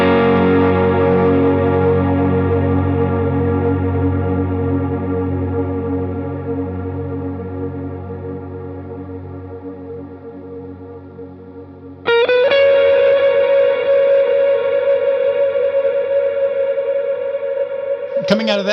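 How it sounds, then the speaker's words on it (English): Lead guitar with a tone setup for swells: a sustained note slowly fading, then a fresh note swelling in at higher pitch, smooth and loud with an effected, singing character, no talk. "that whole part with the tone setup for swells will sound like this"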